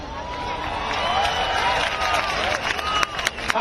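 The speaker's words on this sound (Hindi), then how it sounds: "अभी आप ताली बजा रहे हो।" A rally crowd at a Rahul Gandhi election meeting in Maharashtra claps and cheers, a dense, steady wash of applause with scattered sharper claps near the end.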